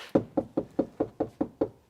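A car door panel fitted with sound-damping insulation is knocked on eight times in an even rhythm, each knock dull and muffled rather than metallic, heard up close with no talking.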